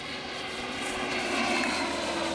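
An RC jet with a CS 120mm electric ducted fan on 12S power spools up on a runway, giving a steady, loud, broadband turbine-like roar that swells slightly over a couple of seconds.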